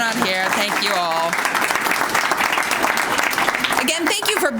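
Audience applause at a branch library grand reopening ceremony, steady and fairly loud for a few seconds with a voice heard over it at the start.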